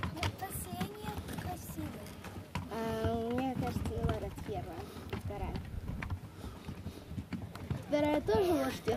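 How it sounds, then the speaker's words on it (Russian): Pack horses and mules carrying loads walk past on a trail, hooves clip-clopping near, while people talk over them. "Вот лошадки с грузом. Это мюлы."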